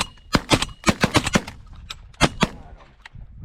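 Shotgun fire on a white-wing pigeon hunt: several sharp blasts, some in quick pairs and clusters, then two more after a short pause, loud and close with an outdoor background.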